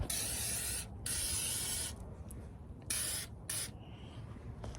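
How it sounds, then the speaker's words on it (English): Fluid Film aerosol sprayed onto a Bushwacker teardrop camper: close, loud hissing bursts, a long spray, a second burst, then shorter blasts separated by brief pauses, with no talking. "so we're just gonna spray this on."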